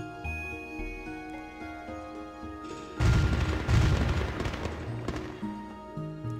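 Fireworks burst in the game Tokyo Afterschool Summoners, a sudden dense crackling boom that cuts in over soft in-game music, followed by scattered pops and rumbling as the tune carries on.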